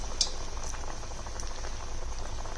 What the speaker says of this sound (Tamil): பருப்பு வடை பண்ணுற மாதிரி தான் எண்ணெயில் போட்டிருக்கேன்